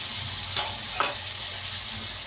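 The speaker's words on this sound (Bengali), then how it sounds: "সর্ষে পোস্তটা সব দিয়ে দিলাম। এটাকে এবার আমি একটু ভালো করে কষাবো।" Mustard and poppy seed paste sizzles in a hot pan while being stirred, a steady close hiss with a couple of brief scraping stirs and no talk.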